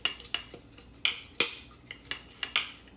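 Mint and sugar muddled in a glass with a small rolling pin for a coconut mojito: a series of sharp, close clinks and knocks, about eight irregular taps of wood against glass, with no talking.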